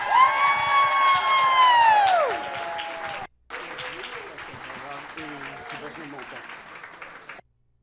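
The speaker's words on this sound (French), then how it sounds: "on applaudit pour 127 personnes" An audience at a climate event applauding, steady clapping with cheers and whoops, a loud tonal swell at the start, a brief drop, then continued applause that cuts off.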